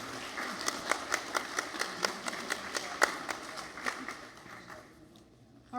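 A small group claps at a community meeting: about a dozen distinct, evenly spaced claps heard as a light patter that thins out and fades into room quiet, with no talking.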